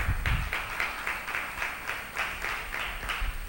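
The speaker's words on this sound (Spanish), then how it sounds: "démosle un aplauso al Kadosh Baruch Hu" A small congregation claps in a brisk, even rhythm, roughly three claps per second for a few seconds, with no voices over the clapping.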